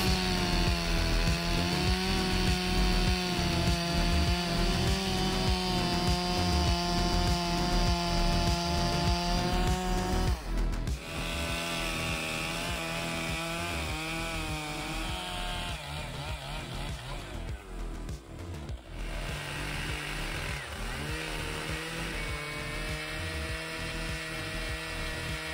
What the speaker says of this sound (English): the Style MS881 chainsaw is the tool of choice for processing the extremely